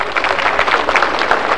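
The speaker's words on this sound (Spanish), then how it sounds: "Recibamos con este aplauso," A crowd at an official ceremony in Cochabamba, Bolivia applauds in a steady, dense patter of clapping hands.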